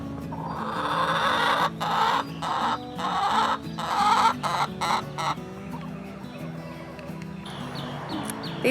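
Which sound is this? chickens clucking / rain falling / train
chickens clucking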